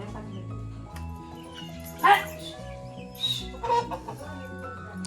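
A rooster clucks in several short, sharp bursts over a quiet background, with other faint animal noises around it.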